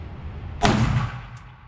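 A single sharp shot from a Springfield Echelon pistol rings out, close and loud with a short echoing tail, over a low background rumble.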